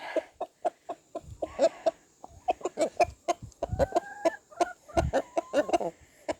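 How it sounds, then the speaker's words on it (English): Backyard hens cluck steadily while pecking at kitchen scraps, a close run of short rhythmic clucks with a few rising squawks and scratching thumps, loud and clear with no talking. "Look at these girls. Good chooks."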